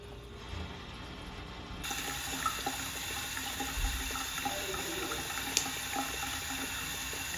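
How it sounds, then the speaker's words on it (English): Water runs steadily into a newly replaced fiberglass shower drain set in concrete, a continuous hissing rush that switches on early and carries on at an even level with faint knocks. "We're going to run water."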